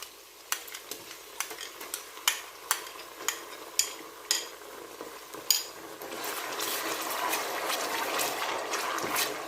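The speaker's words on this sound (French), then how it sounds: "Et je vais laisser frire jusqu'à ce que la tomate soit un peu sucrée." Onions and tomato paste fry in oil in a pot for red rice, with about a dozen sharp, regular stirring knocks. A steady, close sizzle then swells and carries on alone.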